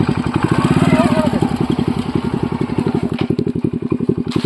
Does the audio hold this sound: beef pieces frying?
no